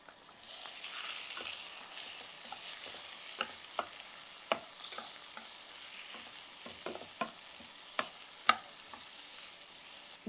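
Onions and tomatoes sizzle steadily in a pan for palak matar gravy, with sharp spatula scrapes and taps cutting through the continuous frying hiss at irregular intervals; no talking.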